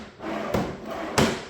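A wooden workbench drawer slides with a short rolling rumble, ending in two dull knocks as it opens or shuts; close and brief, with no voices.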